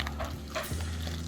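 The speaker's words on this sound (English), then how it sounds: "Can you stir that really close to the camera?" Microwaved Chef Boyardee canned pasta being stirred close up, giving a short run of soft, wet squishing and scraping noises over a steady low hum, with no one talking.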